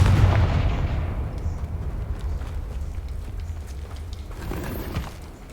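A Confringo spell cast in a video game sets off a loud, close explosion that booms and rumbles, then fades over several seconds, with a smaller crackling burst near the end.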